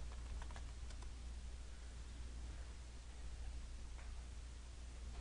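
Faint keystrokes on a computer keyboard as a command is typed, a few soft clicks near the start and one later, almost buried under steady loud hiss.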